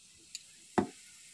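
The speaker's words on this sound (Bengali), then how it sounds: "কলা ভাজার ওই তেলে এবারে দিয়ে দিতে হবে কয়েকটা সাদা জিরে।" White cumin seeds dropped into hot oil left over from frying green plantain give one short, close sizzling burst that fades quickly after a faint tick.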